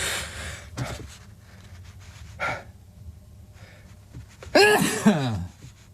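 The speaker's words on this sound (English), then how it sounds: "I'm going to sneeze." A few sharp breathy sniffs build up before one loud, voiced sneeze bursts out near the end, close and sudden.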